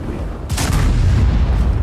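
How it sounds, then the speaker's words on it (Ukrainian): Gunfire in a tank battle video game: a sudden sharp burst of shots followed by a sustained low rumbling boom, loud and close. "А Оце постріли."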